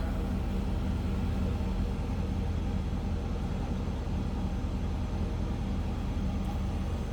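A 2003 Chevrolet Silverado SS extended-cab truck with its stock exhaust idles steadily, heard from behind the vehicle as a constant low, even rumble with no revving and no talking.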